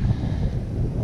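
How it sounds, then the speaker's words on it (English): Strong wind buffets a microphone on a boat out on Honda Bay, Palawan, a constant loud low rumble with no other distinct sound over it. "Sorry for the wind, it's just that it's really windy."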